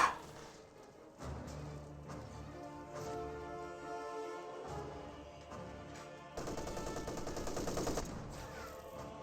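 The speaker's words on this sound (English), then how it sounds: "MG34 firing away." An MG34 machine gun fires in Company of Heroes 2 with sustained rattling bursts over a dense, busy battle soundscape, moderately loud and unbroken.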